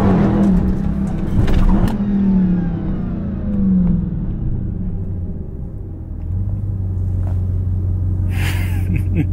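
A Dodge Hellcat's engine revs hard and accelerates in second gear through downtown Philadelphia streets, a loud, close deep rumble that rises, eases off briefly, then settles into a steady drone.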